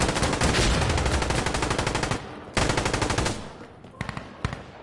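Rapid machine gun fire in Insurgency: Sandstorm, loud close bursts of rattling automatic shots, a long stream, then a second burst and a few scattered single shots near the end.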